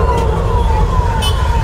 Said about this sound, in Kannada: ಬೇಗ ಆಂಬುಲೆನ್ಸ್